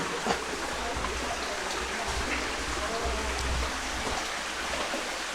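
Water trickles steadily down a stream inside Alutila cave in Khagrachari, Bangladesh, a continuous close hiss and splash that fills the whole stretch without pause.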